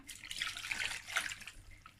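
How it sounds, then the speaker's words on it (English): Water poured from a tap into a pot of beef and cow foot with seasoning cube and onions for okra soup, a steady close splashing hiss for about two seconds with no talk. "So I'm going to add a bit of water"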